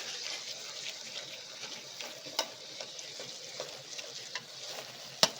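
Tomato curry simmering in a pan on low heat, a steady soft sizzle and bubbling with occasional clinks of a spoon stirring, close and continuous.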